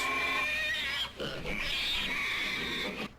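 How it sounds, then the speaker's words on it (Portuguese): Pig squeals and grunts from the video game Outlast, a harsh, sustained, strained squealing that is loud and continuous across the moment, broken by a couple of brief dips, with no speech. "Esse barulho de porco aí."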